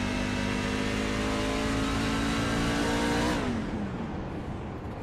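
A race truck engine screams at high revs on track at Richmond, holding a steady pitch before dropping sharply as the driver clutches, loud and close as if on board.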